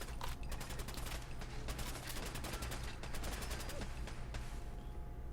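Rapid automatic gunfire in the Fallout 4 video game, a dense string of sharp, evenly spaced shots rattling off continuously over a low steady rumble, fairly faint overall.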